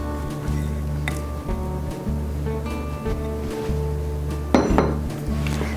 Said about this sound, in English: Now we'll just combine all of these in order to make our pumpkin spice muffin batter